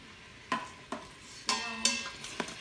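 Shrimp cook in butter and white wine in an Instant Pot, a quiet sizzle broken by a handful of sharp scrapes and clinks as they are stirred close up.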